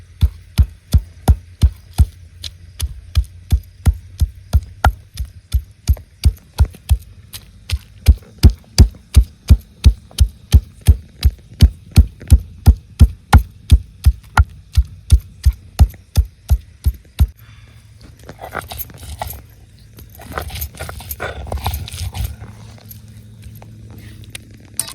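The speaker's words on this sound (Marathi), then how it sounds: "आता हे 2 कांदा बी चांगलं बारीक वाटून घेतलं." Coconut and two onions are ground finely for a chicken dish, producing a steady run of loud, rhythmic thumping strokes that later gives way to rougher, irregular scraping.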